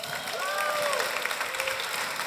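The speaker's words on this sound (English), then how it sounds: "Round of applause for this." Applause from the audience at a startup pitch competition grand final, dense clapping heard at a distance and moderately faint, with whistles or cheers rising briefly above it.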